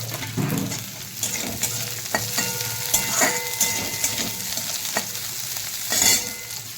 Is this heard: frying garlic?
yes